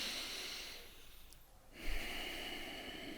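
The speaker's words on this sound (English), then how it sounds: "So I focus then on the sound of breath." Slow breathing during a breathwork meditation, a soft sustained airy exhale fading into a pause and then a sharper, louder inhale through the nose, close and quiet with no talk.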